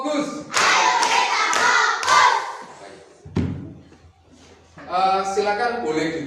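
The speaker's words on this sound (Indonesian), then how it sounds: "Tepuk fokus." A fourth-grade class performs a rhythmic clapping routine, bursts of hand claps and thumps in a patterned sequence mixed with children's chanting voices, followed by a teacher speaking.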